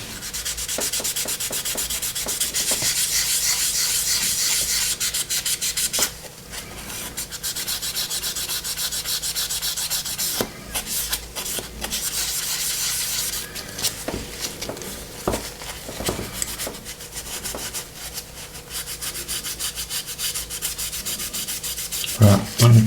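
Sandpaper rubs steadily over an Airfix 1:72 BAE Hawk plastic model kit, close and continuous, with brief pauses and shifting strokes toward the end.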